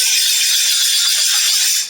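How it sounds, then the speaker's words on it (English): A hot bowie knife blade quenched in liquid gives a loud, close, continuous bubbling hiss that holds steady for nearly two seconds, then fades quickly. "that's the sound of successful quench"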